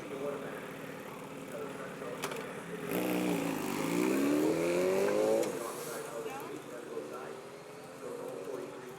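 An Alta Redshift SM39 electric supermoto motorcycle accelerating hard at a drag strip, a rising whine swelling loud and then fading as it pulls away, with crowd and track noise and some talk in the background.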